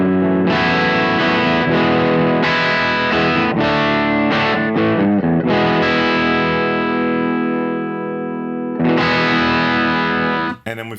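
Electric guitar played through a Laney Ironheart amp plugin on its clean channel, a series of ringing chords and notes with chorus-like shimmer and sustain, loud and close, with a brief gap before a final strum and no talking.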